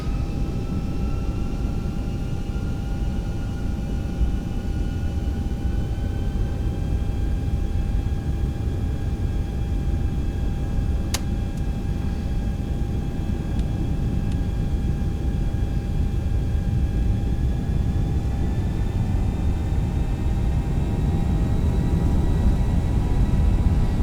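A Boeing 737's jet engines roar at takeoff thrust in X-Plane 11 with a steady, loud rushing drone and faint whining tones rising slowly. A single sharp click cuts in partway through.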